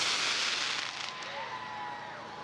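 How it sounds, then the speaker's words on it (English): Fireworks burst at the close of the Santa Claus Parade in Winnipeg, a dense crackling and hissing wash of distant explosions at a steady, moderately loud level. "And now I'm just enjoying these fireworks."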